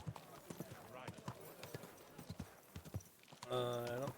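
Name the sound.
horse hooves clopping in video game Kingdom Come Deliverance 2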